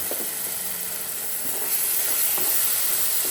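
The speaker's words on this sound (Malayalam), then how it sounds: "ഇതിലേക്ക് നമുക്കിനി കുറച്ച് തക്കാളിയുടെ നന്നായി അരച്ച് വെച്ചിട്ട് ഒഴിച്ചു കൊടുക്കാം" Ground tomato paste poured into a hot pan hisses and sizzles in a steady, fairly loud wash that carries on throughout, with no talking.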